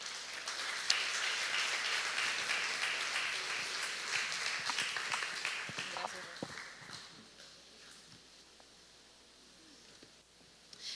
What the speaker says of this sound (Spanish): Dale fuerte las palmas al Rey.